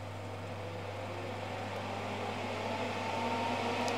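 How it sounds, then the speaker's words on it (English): The cooling fan of a Haas VF3 gearbox milling machine runs with a steady low hum and airy whoosh, constant and moderately faint throughout. "That's the annoying thing about these gearbox machines is the fan comes on."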